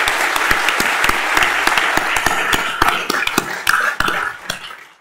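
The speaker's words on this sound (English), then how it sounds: "please join me for a round of applause for all of the nominees this evening." A round of applause for award nominees at a web industry awards evening, moderately loud clapping with distinct individual sharp claps standing out, sustained then thinning and fading out toward the end.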